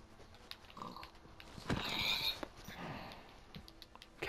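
Pig oinks in Minecraft survival gameplay sound as a few brief snorting grunts over quiet in-game background noise and light footsteps.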